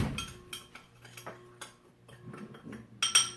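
Cracked pepper and rosemary being stirred in a bowl for a rosemary au poivre steak rub: light clinks and taps of a utensil against the bowl in an irregular rhythm, close and fairly quiet, ending in a sharper cluster of scrapes.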